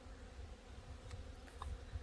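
Honeybees buzzing at a beehive during a hive inspection, a low, steady droning hum throughout at moderate, fairly close level, with a few faint higher tonal flickers.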